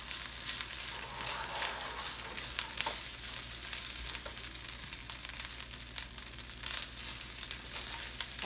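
Spices sizzle in oil in a pan for tricolour rice, crackling and hissing steadily near the pan, with occasional scraping stir sounds and no talk.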